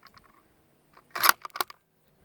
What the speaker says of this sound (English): it bolted into battery without the stripper clip